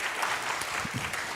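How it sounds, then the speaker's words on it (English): Audience applauding after a music performance at a community talk event, a short, steady burst of many hands clapping in a room, even and moderately loud. "big round of applause for Heath, please."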